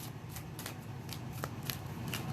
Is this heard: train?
no